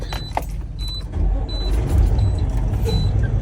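A truck engine starts with the vehicle in neutral and its air pressure low. A low rumble swells partway through, while short, repeated high warning beeps chime over it.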